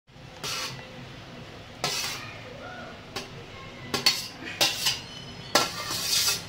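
Ingredients for vegetable pulao tipped into a cooking pot, with a series of metallic clinks and clanks of spoon and vessel, some brief scrapes, close and moderately loud, no talk.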